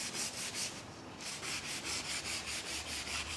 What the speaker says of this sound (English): We have to sand the sheet along the grains because it's a small piece.